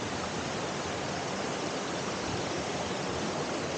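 Forest stream water rushing near the Amboli waterfalls in the dense Western Ghats jungle of Maharashtra, a steady, even, broadband wash of flowing water that continues unbroken from start to finish with no voices.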